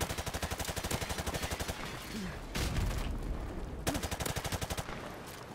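Rapid automatic gunfire from a gunfight in Call of Duty 4 Remastered, a steady rattling burst of evenly spaced shots that runs almost without pause, briefly broken by a heavier blast, loud and close with no talk over it.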